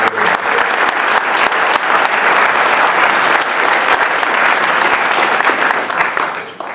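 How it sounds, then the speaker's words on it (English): Loud, sustained applause from a large crowd at an award presentation, steady clapping throughout that tapers slightly at the end. "I want to give a round of applause to your family"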